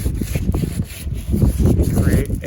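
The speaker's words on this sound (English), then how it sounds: "we're going to take a little bit of sandpaper. We're going to prep the surface with something like this." Sandpaper rubs the surface of a plastic rain barrel around a crack in quick, close, scratchy back-and-forth strokes, fairly loud and continuous for a couple of seconds.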